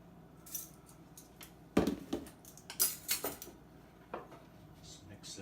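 A spoon or whisk scrapes and clinks against a pan while flour is stirred into melted butter for a Dijon chicken sauce, in short irregular bursts of close metallic scraping with quiet pauses.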